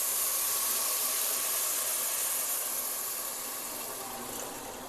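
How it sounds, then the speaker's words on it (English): Rice and oil sizzling in a pot on the stove, just after water goes in: a loud, steady, close hiss fills the whole stretch, easing slightly toward the end. "You can hear it sizzling, so I think we're good."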